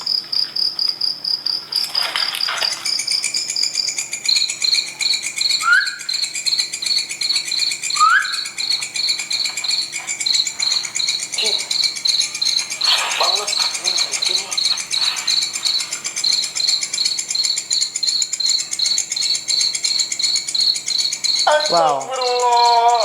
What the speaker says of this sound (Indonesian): dari bunyi jangkriknya